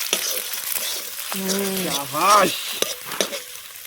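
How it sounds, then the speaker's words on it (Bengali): Eggs fry and sizzle in a pan outdoors in a forest, with a steady hiss and some stirring scrapes, and a voice talks over the cooking. "ডিম ফেরাই হচ্ছে আজকে"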